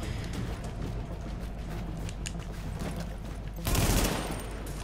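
Automatic gunfire crackles through a firefight in Tom Clancy's The Division, a dense steady barrage that swells into a louder, closer burst near the end.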